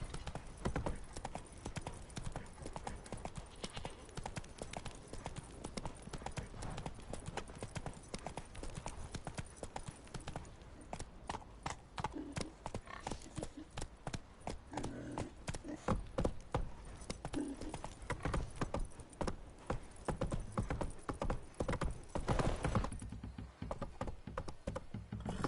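Geralt's horse Roach gallops in The Witcher 3, steady rhythmic hoofbeats clopping throughout, fairly close and even, with a faint background bed beneath.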